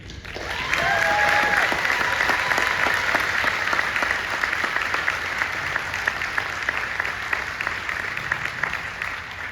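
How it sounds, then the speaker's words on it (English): A large audience at a university graduation ceremony breaks into loud, sustained, enthusiastic applause for the graduates, a dense wash of clapping that holds steady with scattered cheers and crowd noise. "our first very enthusiastic round of applause to congratulate you, our graduates"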